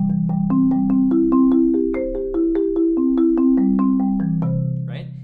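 Keyboard triple permutation exercise on major arpeggios, a brisk run of evenly spaced single piano notes climbing and then walking back down, clear and close, ending with a short decay.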